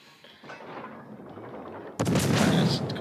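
Naval guns in a sea-battle game rumble at a low level at first, then a loud, sharp salvo erupts and sustains a dense roar with crackling, under faint speech.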